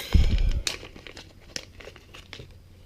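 A Ziploc plastic bag holding an aluminum aftermarket trigger crinkles loudly and close as it is opened, with a dense burst of crackling early on, then scattered softer rustles and small snaps.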